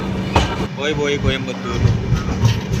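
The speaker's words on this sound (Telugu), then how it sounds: "ట్రైన్ కూడా కదిలేసాం" Passenger train running along the rails after departing at night, a low rumbling hum under a nearby voice speaking, with faint rhythmic clacks.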